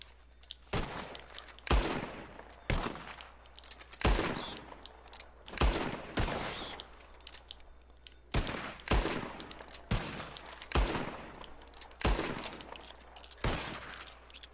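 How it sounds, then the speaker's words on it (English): Gunshots in a video game as players shoot birds out of the sky: roughly a dozen loud, sharp reports at irregular intervals, each trailing a short echoing decay, over a low steady hum. "whoever shoots four birds out of the sky first wins"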